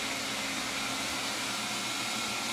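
A Proscenic M6 Pro robot vacuum cleaner runs in turbo mode with a loud, steady, broadband whirring hiss that holds constant and close throughout.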